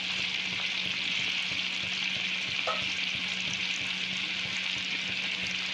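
Curry leaves fry in hot butter for a prawn gravy, giving a steady, close sizzle and crackle that runs unbroken, with a faint stir partway through.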